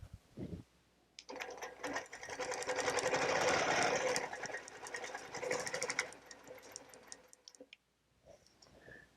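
A sewing machine quilting a stitch-in-the-ditch line runs alone in a rapid, even run of close mechanical ticking for about five seconds, then winds down and stops. Soft handling clicks come at the start and end.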